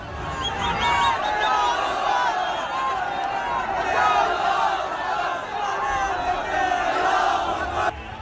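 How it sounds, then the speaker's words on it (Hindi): A large crowd at a tense street protest over a flag on a statue chants and shouts slogans continuously, a dense roar of many voices close by, steady and loud throughout. "कुछ देर में भीड़ ने नारेबाजी शुरू कर दी।"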